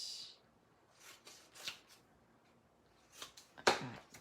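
Paper craft pieces are being cut, with a few quiet scattered snips and rustles, one sharper cut near the end, in an otherwise quiet room.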